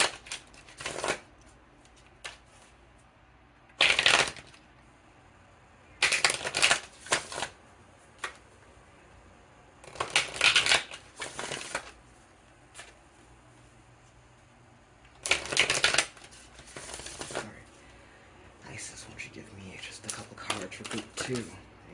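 A tarot card deck is shuffled in repeated bursts of riffling and flicking cards, separated by quieter pauses with small handling sounds.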